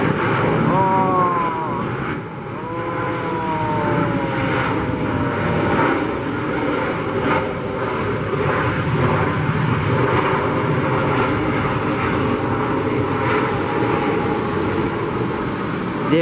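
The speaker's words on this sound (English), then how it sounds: "Southwest just landed" A Southwest airliner landing at Atlanta airport roars with a loud, steady jet engine rumble that holds throughout, with a whining tone near the start, heard from an outdoor spotting position.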